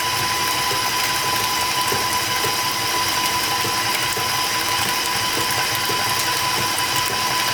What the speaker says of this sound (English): So here I'm going to go on high speed because I want those yolks to break.